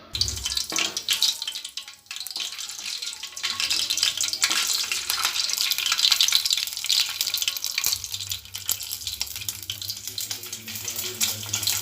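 Cloves, cardamom and bay leaf fry in hot oil for tomato rice, giving a loud, continuous, close sizzle with a few stirring knocks and no voices.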